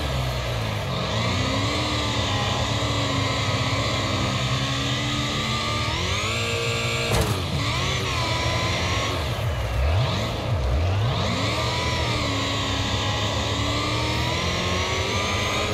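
Engines of bumper cars in a Wreckfest snow race at Eagles Peak whine and rev continuously, pitch rising and falling as the small cars accelerate and jostle, loud and close throughout.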